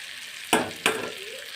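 Cauliflower and potato sautéing with spices in a pan, a steady close sizzle broken by two sharp stirring scrapes about a third of a second apart, no talking.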